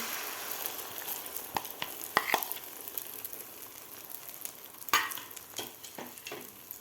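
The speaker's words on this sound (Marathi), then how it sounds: "तेल आपलं गरम झालेलं आहे आता यामध्ये मिक्स करून घेतलेलं आपल्याला हे अंड्याचं मिश्रण घालायचं आहे" Beaten egg mixture frying in hot oil for anda bhurji, a soft steady sizzle close by, broken by a few sharp clinks and scrapes from a spoon stirring in the pan, with no voices.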